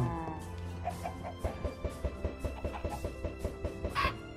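Minecraft chickens cluck in a quick, regular series of short pecking calls, close and fairly loud, with a sharper burst near the end and no talking.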